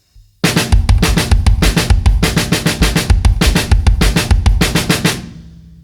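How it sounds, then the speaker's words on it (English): A drum kit plays a beginner linear fill, alternating right and left hand hits with paired kick drum strokes in a rapid, steady pattern. It is loud and close, with no voices, and the final hits ring out. "giving us a right-left kick-kick pattern."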